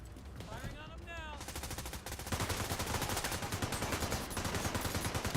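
Rapid bursts of automatic gunfire from The Division 2, a video game, fire loud and close in dense rhythmic volleys that build and continue steadily after an opening burst mixed with electronic game effects.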